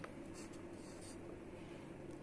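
Pen writing Russian letters by hand on paper, a steady soft scratching texture running throughout, close and quiet with faint background hum.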